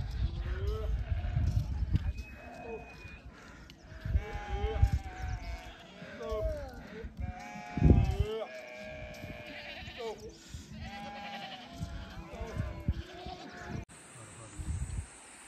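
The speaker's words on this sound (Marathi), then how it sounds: "भरपूर मेंढ्या आहेत रे इकडे, एवढ्या टॉप वरती या मेंढ्या आहेत." Sheep bleat in a large flock along a high mountain pilgrimage trail on the Shrikhand Kailash route, with repeated wavering calls near and far. People talk throughout, and there is a sharper burst around the middle.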